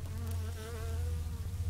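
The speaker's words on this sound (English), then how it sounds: "We got bees buzzing." Bees buzz around the small flowers of a mandarin tree in a fruit garden, a steady close drone with wavering pitch that holds without a break.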